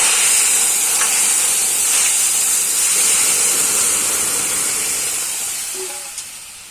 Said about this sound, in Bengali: এই যে দেখো ডালটা এবার দিয়ে দিলাম